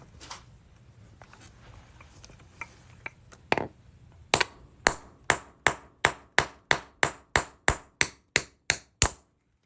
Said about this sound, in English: We're just gonna set this up here and hit it with the hammer.